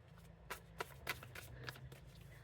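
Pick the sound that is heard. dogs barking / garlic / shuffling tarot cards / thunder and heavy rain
shuffling tarot cards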